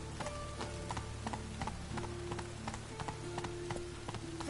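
Roach, the horse in The Witcher 3, walks with a steady clip-clop of hooves, faint and even-paced. Soft ambient noise sits underneath and no one talks.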